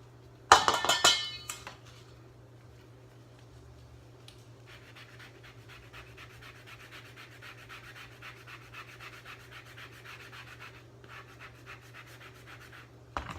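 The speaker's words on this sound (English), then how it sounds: "So I'm grating the zest of a blood orange" Zest being grated from a blood orange on a fine grater, a soft, steady, close scratching that runs continuously after a brief loud clatter at the start, over a low background hum.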